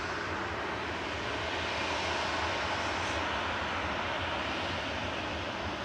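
A Jet2 airliner bound for Skiathos roars at Manchester Airport, its engines a continuous, even, broadband rush that holds at a fairly strong level from start to finish, with no voices.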